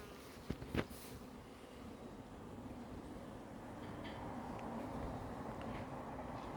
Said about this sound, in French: Je vois deux frelons sur le rucher. Là, ici, un vol stationnaire.